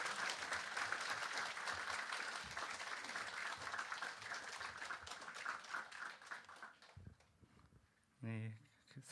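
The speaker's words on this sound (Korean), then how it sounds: "나오실 때 큰 박수로 환영해 주시기 바랍니다" A church congregation at a Sunday service claps in sustained applause that gradually thins and fades, followed by a brief spoken voice at the end.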